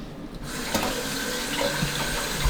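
Steady rush of water running from a kitchen tap into a sink for hands to be washed, close and continuous throughout.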